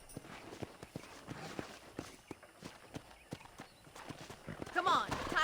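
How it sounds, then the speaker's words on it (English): Horse hooves clip-clop in a steady walking rhythm during a ride in the video game Red Dead Redemption, with faint background voices and a brief rise in other sound near the end. "let's see if you can still ride a horse."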